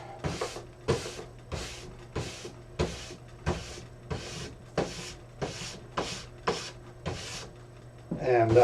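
A brass brush passes over the waxed base of a skating ski with medium pressure, giving about a dozen evenly spaced, rasping strokes close up, in a steady rhythm with no talking.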